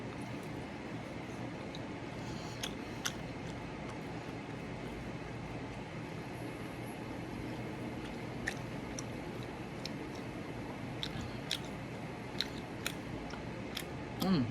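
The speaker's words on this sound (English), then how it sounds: "I think y'all like me picking up and chewing it." Someone eats baked ham by hand, with soft wet chewing and occasional sharp clicks and smacks over a steady background hiss, close and quiet, with no talking.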